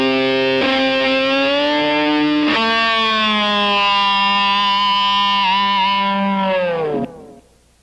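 A distorted electric guitar: a tapped octave note rings loudly, is retriggered, then is pulled up a whole step with the whammy bar and held before a sharp cutoff.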